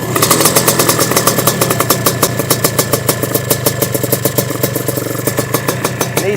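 A Sledgehammer 333 engine idles on its first start, a loud, close, rapid mechanical chugging with a steady, even rhythm throughout and no voices.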